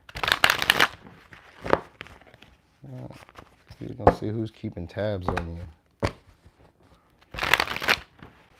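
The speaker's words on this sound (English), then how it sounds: "I'll just have to shuffle these up today." Tarot deck being shuffled by hand, bursts of papery riffling at the start and end with a few softer card taps between, while someone talks over the middle.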